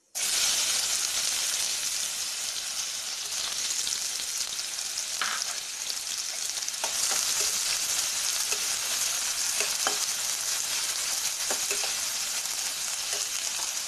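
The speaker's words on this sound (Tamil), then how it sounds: "இதில் ஒரு கப்பு பொடிசாக கட் பண்ண பெரிய வெங்காயத்தை ஆட் பண்ணிக்கலாம்." Chopped large onion frying in oil with cumin seeds, a steady, loud, close sizzle that runs the whole time, with a few faint stirring clicks and no voices.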